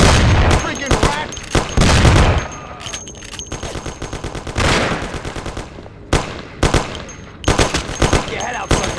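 Rapid bursts of automatic gunfire in the video game Mafia: The City of Lost Heaven, loud repeated volleys with short pauses between them and a voice shouting over the shooting.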